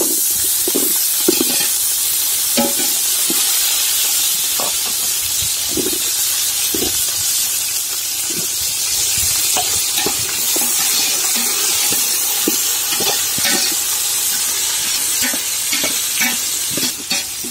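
Cumin seeds and small shallots sizzle and crackle steadily in hot oil for a Kerala-style mural fish curry, with scattered pops, a continuous frying hiss and occasional stirring clinks, close and loud throughout.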